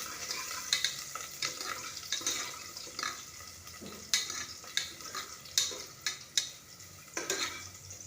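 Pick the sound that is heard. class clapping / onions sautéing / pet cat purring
onions sautéing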